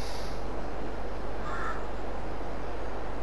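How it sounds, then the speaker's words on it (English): A crow caws in Farming Simulator 22, a single call standing out over a steady, dense background of game ambience. "Crow."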